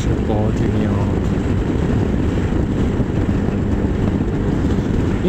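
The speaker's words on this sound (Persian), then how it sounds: "چه بادی میاد." Heavy wind buffets and roars past the microphone at highway speed on an RKS 250 motorcycle, with a low engine rumble underneath, steady and close.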